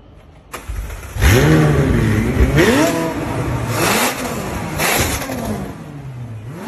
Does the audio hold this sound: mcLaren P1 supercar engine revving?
yes